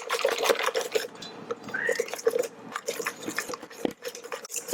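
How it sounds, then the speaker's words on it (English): Whisking an egg mixture for chiffon cake, a fast, rattling scrape of the whisk against the bowl, close and continuous with uneven strokes, briefly joined by a faint voice. "whisk this until it's nice and smooth"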